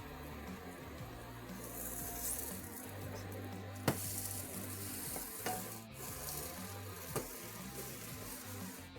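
Orange French toast fries quietly in a pan, a soft low sizzle with a few sharp utensil clicks and taps, close but faint, no talking.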